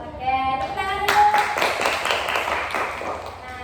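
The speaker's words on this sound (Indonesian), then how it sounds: "Oke, tepuk tangan dulu." A small counselling group claps hands together in a room, a close, bright burst of clapping that starts after a short sung or spoken tone and carries on for a couple of seconds.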